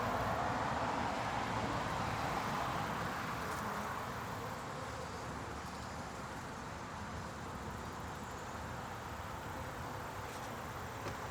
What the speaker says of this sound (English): I hear buzzing.